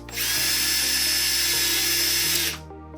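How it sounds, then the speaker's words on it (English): A power drill whines steadily as it drives self-tapping screws into gutter guards, with one loud, sustained high-pitched burst lasting a couple of seconds before it cuts off. "Put our self-tapping screws in."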